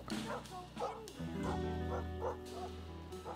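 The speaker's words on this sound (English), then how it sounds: "dogs barking." Dogs yip and bark in short repeated bursts over a steady low hum, with some whimpering mixed in, fairly close.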